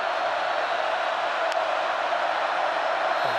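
A large football stadium crowd at a Villanova at Penn State college game, a broad steady roar of many voices heard at a distance, holding at an even level throughout without distinct cheers.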